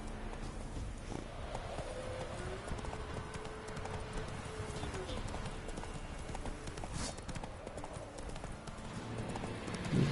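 Roach the horse galloping in The Witcher 3, a steady rapid clip-clop of hooves running continuously and fairly near over game ambience, with a faint whinny-like tone partway through.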